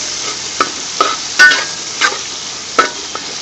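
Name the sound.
onions, green chilies and spices sautéing in a pan for prawn pulao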